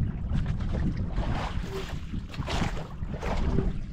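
Low rumbling engine and wind buffeting on open water, as from boats out on the sea, steady and close to the microphone.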